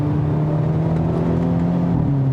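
A 2022 Hyundai Elantra N turbo sport compact sedan pulls hard on curvy roads in Malibu, California, with a loud, steady engine drone from inside the car, its pitch edging upward with no break.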